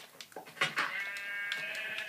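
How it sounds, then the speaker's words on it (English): Sheep bleating in the Minecraft video game, a few short wavering bleats with one longer drawn-out call near the end, close and clear with no talk over them. "Here, another sheep."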